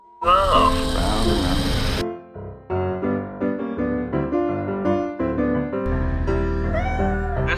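A cat meows repeatedly in a drawn-out, wavering cry, with tonal music or sounds running underneath and a loud burst at the start.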